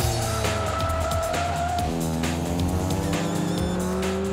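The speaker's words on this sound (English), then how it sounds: "We're going to be in our Mazda MX-5 Championship Cup car." A Mazda MX-5 Championship Cup race car engine roars loud and close, revs climbing and shifting through gears, with a harsh continuous drone and no talking.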